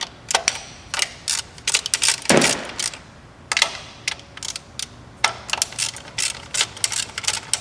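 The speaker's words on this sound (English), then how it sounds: "next we remove these 2 10mm bolts that are holding this wiring harness bracket to our valve cover" A hand ratchet working two 10mm bolts off a wiring harness bracket on the valve cover of a 2006 Mitsubishi Outlander, with bursts of quick clicking pawl strokes and pauses, close and clear with no talking.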